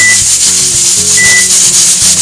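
A pressure cooker cooking qorma on a stove hisses in loud, rhythmic bursts of steam, about a dozen pulses in quick succession, with a couple of brief faint whistling tones riding on top and no talking.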